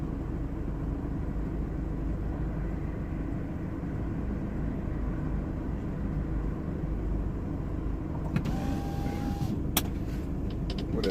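Cars driving over a freeway overhead, heard from a van parked beneath it, as a continuous loud low rumble with a few sharper clanks and a faint tone near the end.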